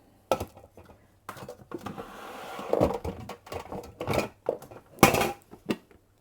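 A slow cooker handled and set down on a kitchen bench in a tiny house, with several close clattering knocks and scrapes of ceramic and metal, irregular and loud, with a sharper bang near the end.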